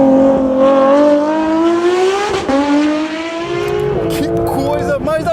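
A Porsche 992 GT3 RS engine revs loud and close, its pitch climbing steadily through the gears, with a shift dip and then a raspy, crackling rise as it keeps pulling.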